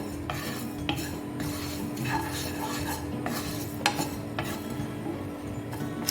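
Cumin and coriander seeds dry roasting in a pan over a low flame, with steady stirring and scraping, a faint sizzle and occasional light clinks of a spoon against the metal, close and continuous without any talk.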